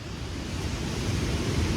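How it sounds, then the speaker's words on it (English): Ocean waves and swell breaking on a beach while surf fishing, a steady close roar of surf with low rumbling wash that holds constant throughout, no voices. "the waves are at least 6 foot high or something like that"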